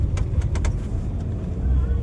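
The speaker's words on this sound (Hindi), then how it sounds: "मम्मी अभी ड्राइव कर रही है कार" Car driven by the mother, steady low engine and road rumble from inside the cabin with a few brief clicks and rattles, voices faintly present.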